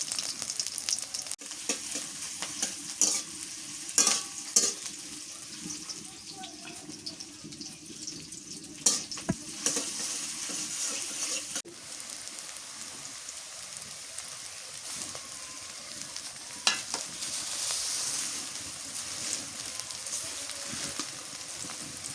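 Chopped onion and green chili frying in a pan, a steady hiss with scattered clicks and scrapes from stirring across the whole stretch, no voices.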